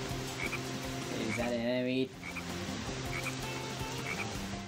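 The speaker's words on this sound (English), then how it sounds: "Nope, the frog's not an enemy." Frog croaking in the jungle stage of the video game Sonic Heroes, repeated chirpy croaks heard steadily over layered game music and effects, with a character's voice briefly speaking in the middle.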